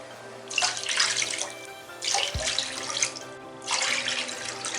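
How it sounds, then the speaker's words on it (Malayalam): Water for rice is poured into a cooking pot in three separate splashing pours of about a second each, close and fairly quiet, with brief pauses between them. "ഇനി ഇതിലേക്കായിട്ട് മെഷർമെൻറ്റ് കപ്പിൽ 4 കപ്പ് വെള്ളം ഒഴിച്ചു കൊടുക്കാം"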